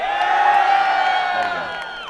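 A crowd at a Halo 4 MLG Dallas 2012 esports event cheers and whoops continuously, a dense, loud sustained roar of many voices filling the hall.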